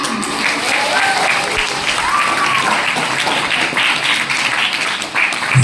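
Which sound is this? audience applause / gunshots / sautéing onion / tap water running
audience applause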